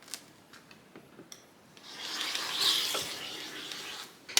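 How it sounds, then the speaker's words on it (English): A rotary tool trims the edge of a cut-paper shape for a collage, a soft, faint rasping grind that swells about halfway through and then holds steady, with light taps before it and no voices. "let me grab my rotary tool. And I'm going to trim this guy off."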